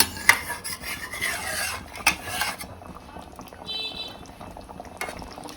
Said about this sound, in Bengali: আমি এখন জল দিয়ে দিব। জল দিয়ে ভালো করে ফুটিয়ে আমি কষিয়ে নিব।